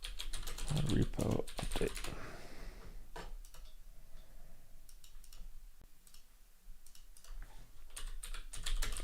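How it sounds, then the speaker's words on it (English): Rapid clicks of typing on a computer keyboard during a coding session, coming in bursts of keystrokes with short pauses, close and distinct, with a few spoken words at the start. "I'm just typing in what it tells me to."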